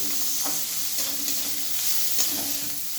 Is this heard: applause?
no